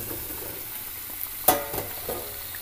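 Chicken heads dropped into a pan of hot oil for semur ayam, giving one sharp hiss at the moment they land, then a few quieter spits and crackles over a low steady sizzle, with no talking.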